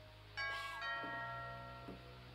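A doorbell chime rings inside a house in the game What Remains of Edith Finch, a two-tone ding-dong sounding clearly once with bright ringing tones that fade slowly against a low steady hum.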